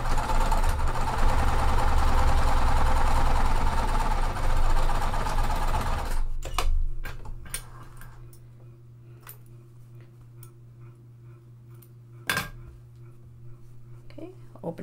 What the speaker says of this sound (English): sewing at that full quarter inch seam allowance